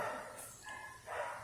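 Neighbors' dogs, one of them a puppy, barking outdoors in the distance. Two or three short, faint barks and yips are spread across a moment, with no talking.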